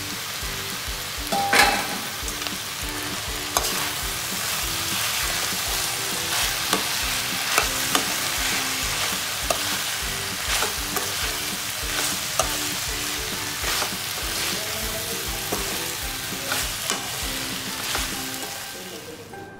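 Fried mushrooms being stirred and tossed in a hot pan for mushroom chilli, with steady sizzling and repeated scraping clinks of a spatula throughout.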